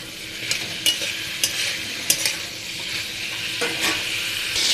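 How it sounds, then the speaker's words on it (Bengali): Chicken pieces frying in hot oil with turmeric and salt, a loud close sizzle with repeated scraping strokes of a ladle against the pan. "তা তেল গরম করে আগে চিকেনটা ভেজে নিচ্ছি হলুদ লবণ দিয়ে"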